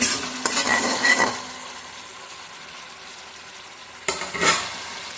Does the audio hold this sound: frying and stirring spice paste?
yes